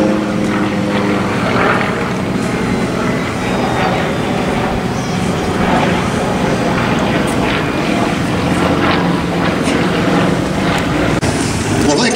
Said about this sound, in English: These are the North American T-28s that are making their paths.